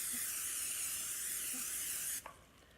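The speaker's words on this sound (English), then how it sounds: "I'm going to spray it with Pam." Pam cooking spray hisses in a steady, close aerosol stream into a small 9x13 baking pan for about two seconds, then stops abruptly with a light click.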